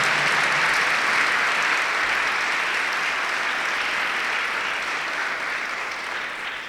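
A church congregation claps loudly and steadily after an Advent Sunday homily, a dense, sustained round of applause that fades slightly toward the end.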